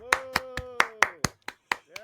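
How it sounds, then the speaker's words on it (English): Around nine sharp, separate claps ring out in a loose, uneven rhythm at a stand-up comedy open-mic show, with a voice sounding over the first few claps. "big round of applause for Omar Tassi."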